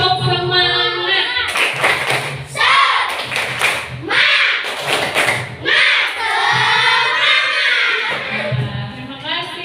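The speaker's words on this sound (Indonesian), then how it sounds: "Tepuk semangatnya dulu" A classroom group performs a rhythmic cheer clap, sharp patterned bursts of hand claps and thumps broken up by a group chanting along and a voice speaking in between.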